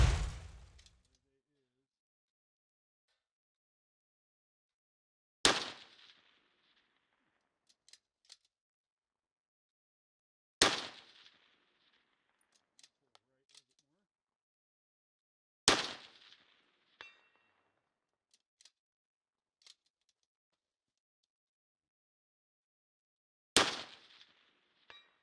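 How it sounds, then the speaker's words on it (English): A Bergara Premier Competition rifle in 6GT fires five single shots at a target 325 yards away. Each is a sharp, loud crack with a quick decay, spaced about five seconds apart, and faint distant clinks follow between shots. "Let me show you a couple of these shots at 325 yards."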